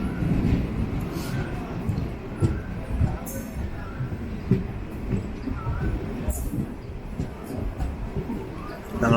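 A train of the 06889 Trichy service runs through and pulls into Neyveli station, giving a steady low rumble with scattered clicks and rattles from the carriage. A voice talks faintly at times under the noise.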